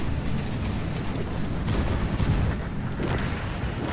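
Heavy in-game gunfire from the TS-5 on hard difficulty, a dense, loud rumbling barrage of booming shots that runs without pause, with no voices.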